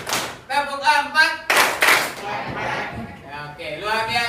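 Classroom pupils clapping in rhythm during a counting clap game, sharp claps in short bursts between a teacher's chanted call, with the voice carrying over and between the claps.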